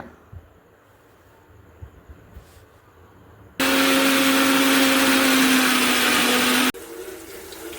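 A kitchen mixer grinder grinds coconut in a loud, steady whirring burst of about three seconds that stops abruptly, set between quiet household background noise.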